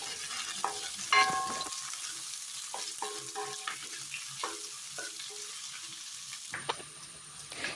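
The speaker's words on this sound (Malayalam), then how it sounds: "ഓയിലൊന്ന് ചൂടായി വരുമ്പോഴേക്കും അതിലേക്ക് നേരത്തെ അരിഞ്ഞു വെച്ചിരിക്കുന്ന സവാള ഇട്ട് കൊടുക്കുക." Chopped onions fry in hot olive oil in a pan, a gentle sizzle under scattered stirring clicks and scrapes, fairly quiet and close.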